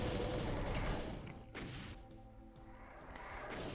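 Rocket explosions in Doom II, a loud broadband blast at the start that fades into a rumbling tail before another burst builds near the end, with no talking.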